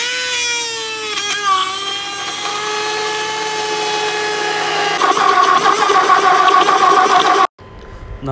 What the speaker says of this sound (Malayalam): അടുത്തതായി നമ്മൾ കട്ട് ചെയ്ത് വെച്ച മാമ്പഴം ബ്ലെൻഡ് ചെയ്യാൻ പോവുകയാണ്.